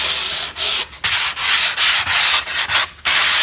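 Rough pallet wood sanded by hand with 400 grit sandpaper in loud, close back-and-forth strokes, each a bright scratchy rasp separated by short pauses, about eight strokes in an even rhythm, with no speech.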